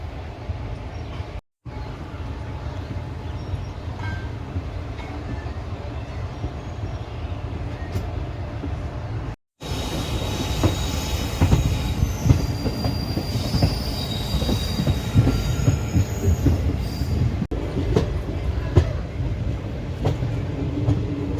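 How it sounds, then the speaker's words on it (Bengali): A train pulling out of Azimganj Junction rumbles and rattles steadily, with metallic wheel squeals rising over the clatter as it gets moving, loud and close throughout. "আমাদের ট্রেন এখন ছেড়ে বেরোচ্ছে আজিমগঞ্জ জংশন"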